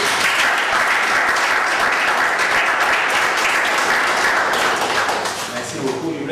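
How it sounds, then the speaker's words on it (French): A church conference congregation applauds loudly and steadily, a dense, close wash of many hands clapping that runs throughout and eases slightly near the end. "On acclame notre Dieu bien aimé."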